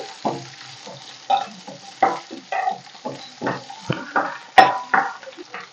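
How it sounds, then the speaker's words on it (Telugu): Green chillies and dried red chillies frying in a little oil in a pan, with repeated stirring scrapes and bursts of sizzle over a low crackle, close and fairly loud. "ఇది కొంచెం ఆయిల్లో ఈ విధంగా ఫ్రై అవ్వాలండి"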